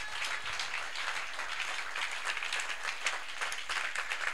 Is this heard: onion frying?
no